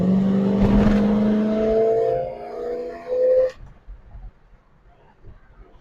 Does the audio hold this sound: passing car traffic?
yes